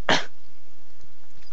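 A single sharp cough sounds close to the microphone, followed by near silence.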